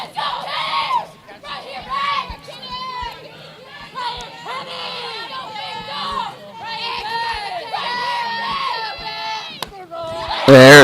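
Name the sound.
softball dugout cheering loudly for pitcher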